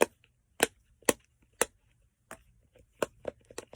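A dimple fidget toy popped repeatedly, giving sharp, close clicks at an uneven pace with short gaps between them, heard alone without talk.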